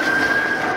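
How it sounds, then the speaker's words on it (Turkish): An ambulance siren on an asphalt road, a loud steady electronic tone that holds close and unbroken throughout, with traffic noise underneath and no voices. "Bak şu anda da bir ambulans geliyor."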